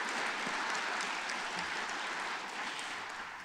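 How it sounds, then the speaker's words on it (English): Audience applause fills a conference hall at the opening ceremony of an AASHE tenth-anniversary event, a steady dense patter of many hands clapping throughout with no gaps. "They really deserve a round of applause."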